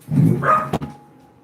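A single dog lets out a short, loud, close bark, a rough two-part woof followed by a sharp snap, then quickly fades to near silence.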